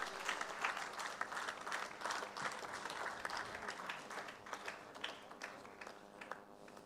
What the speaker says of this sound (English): give a big round of applause for Vivek bhai